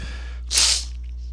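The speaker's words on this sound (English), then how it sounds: "I got to sneeze, but I'm sorry if y'all hear me sneeze." A single sharp sneeze bursts out over a low background hum, brief and close.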